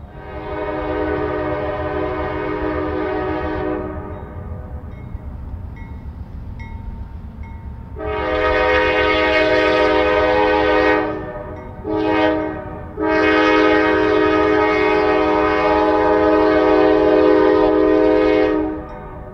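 A heavy CSX coal freight train rumbles past close by, its loud horn blaring in several long blasts with a short break between them.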